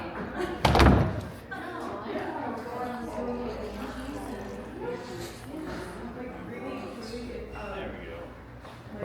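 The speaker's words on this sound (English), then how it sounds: "turn this out and close this door." A door in a historic building is shut with one loud slam near the start, followed by someone talking steadily through the rest.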